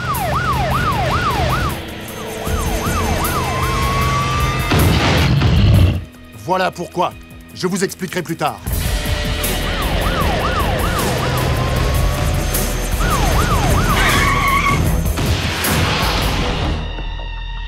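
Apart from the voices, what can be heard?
old patrol car driving with siren, skidding, cartoon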